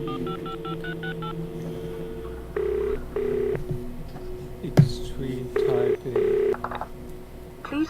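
Telephone keypad tones dial out in a quick string of beeps on a handset in the video game The Lost Crown, followed by a few ringing tones on the line, with a sharp knock partway through and faint voices underneath.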